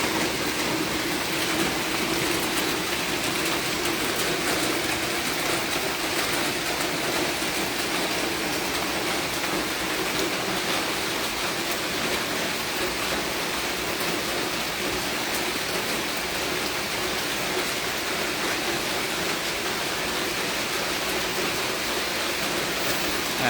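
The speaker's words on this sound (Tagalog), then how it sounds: "grabe ng ulan" A heavy morning downpour roars continuously and evenly, a thick wash of falling water that stays loud and unchanging throughout, with no voices.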